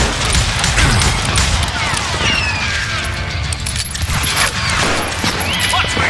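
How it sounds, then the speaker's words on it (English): Gunfire in the Western shooter Call of Juarez: Gunslinger, a dense, loud fusillade of overlapping shots and crashes running throughout amid game noise, with a voice speaking over it. "Watch where you're shooting."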